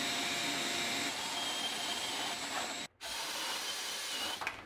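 A Dyson vacuum cleaner sucks up wood debris while cleaning a workshop after building a bunk bed from 2x6 lumber: a loud, steady whir with rattling debris, one brief cut-out about two-thirds through, then resuming.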